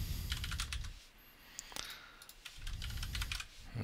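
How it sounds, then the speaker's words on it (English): Quick bursts of keystrokes on a computer keyboard as a zip code is typed, close and fairly quiet, pausing briefly midway before a second run of taps. "I'll just type in a zip code and click Add"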